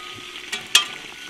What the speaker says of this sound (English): I can hear it sizzling away quite merrily there